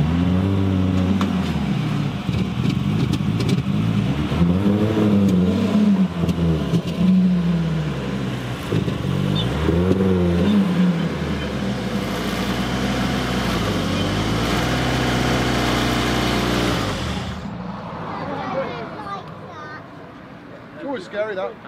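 A historic rally car engine runs and revs in bursts as it is driven onto a trailer, rising and falling in pitch close by, with people talking over it, then the engine noise drops away near the end.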